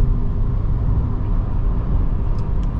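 A Volkswagen Virtus GT Plus with a 1.5L TSI engine and DSG gearbox drones at high RPM from inside the cabin, a steady, heavy low rumble of engine and exhaust without any voices.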